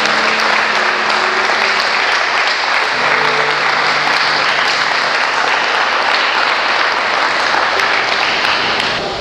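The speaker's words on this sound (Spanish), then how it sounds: "te invito a que le demos un aplauso" Church congregation applauding at a Sunday service, a dense, steady wash of clapping that stays loud and continuous throughout, with faint voices mixed underneath.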